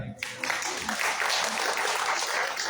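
Audience applause at a rock talk during a writers' gathering in San Juan del Río, a sudden burst of many hands clapping that stays steady and fairly close.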